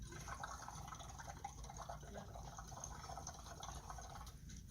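Alkaline water from a Kangen machine splashes and trickles into a container in a quiet, steady pour that runs without any talk.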